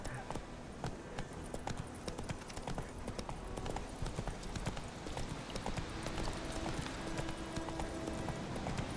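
Roach, Geralt's horse in The Witcher 3, gallops with a steady, rapid clip-clop of hooves running continuously throughout, fairly close, over a busy game soundscape with a voice talking.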